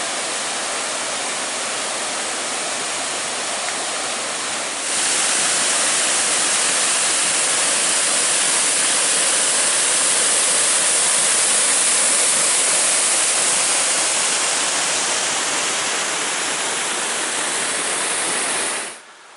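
Steady roar of a small waterfall beside a cave on Eagle Creek Trail, growing louder and brighter partway through as if approached, then cutting off abruptly at the end; no talking.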